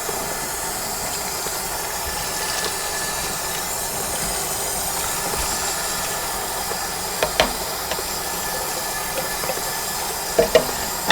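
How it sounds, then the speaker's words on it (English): An Instant Pot pressure cooker simmers with a steady broadband hiss and faint bubbling, punctuated by a few brief clicks and taps near the end; no one speaks. "I'm leaving the Instant Pot simmering all this time because it keeps the pot heated up"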